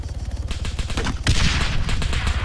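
Gunfire in ARMA 3, a rapid run of shots that swells into a louder, denser volley halfway through, close and continuous with no talk.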